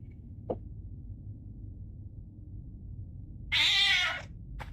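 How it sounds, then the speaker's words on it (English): A cat meows once, loud and drawn out, in a horror video game, with a faint short blip before it and quiet ambience underneath. "Cat!"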